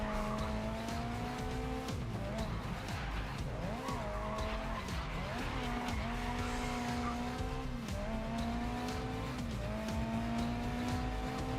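A race car in GRID Legends squeals its tires through repeated handbrake slides over a steady, loud engine drone, the screeching pitch rising and falling in long sweeps.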